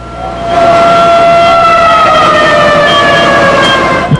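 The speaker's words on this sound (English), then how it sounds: "The sound of sirens and the glow of a chemical fire filled the air." Emergency sirens wail steadily at a chemical fire, several overlapping tones, loud and close, over a low rumble of traffic.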